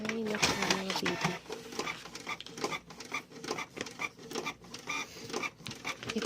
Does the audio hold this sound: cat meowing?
no